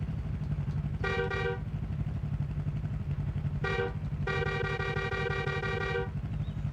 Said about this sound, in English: How do I honk the horn?